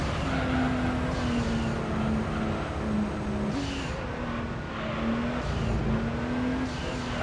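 Car in the Gran Turismo 3 racing game, grinding along track walls: a steady, continuous engine drone with a shifting pitch that rises and falls, loud and up close throughout, with no voices.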